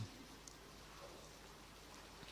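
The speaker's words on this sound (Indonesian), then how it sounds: "meskipun situasinya hujan" Steady rain falls outside at night, a soft, continuous hiss of drops that stays faint and even throughout, with no voices.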